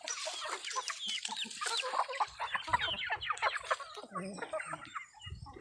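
Large laying hens on a farm clucking and squawking in a busy overlapping chorus close by, with many short calls and no pauses.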